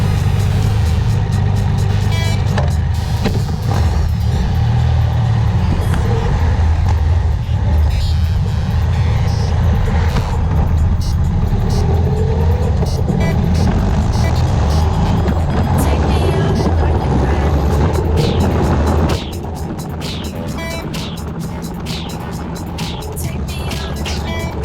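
A Triumph Rocket 3R motorcycle out on the road, its engine droning steadily and loud throughout with wind rush, easing slightly near the end.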